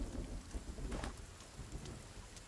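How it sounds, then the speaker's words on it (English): Rain pours steadily in the Sons of the Forest game world, a dense close hiss of falling drops with a low rumbling undertone, continuous for a couple of seconds with no talking. "It's raining in real life and in here."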